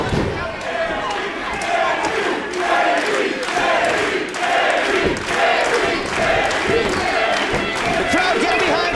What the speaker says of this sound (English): The crowd getting behind Davey Boy Smith in this National Openweight Championship matchup.